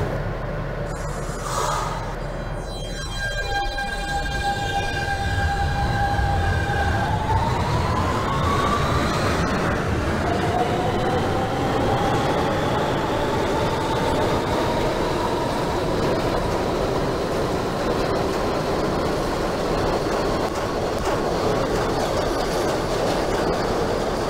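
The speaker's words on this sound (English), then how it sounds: "This is a Manhattan-bound Q train via the N line." An R160B Siemens subway train runs in the OpenBVE simulator on a Manhattan-bound Q route, with rising and falling motor whine, rail clatter and a continuous loud rumble throughout.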